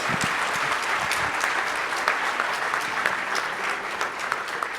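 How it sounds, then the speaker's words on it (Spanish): An audience at a petrochemical panel forum claps steadily for a participant, a dense, even round of applause of moderate loudness with no talking over it. "Un aplauso también igual de fuerte para Juan de Dios."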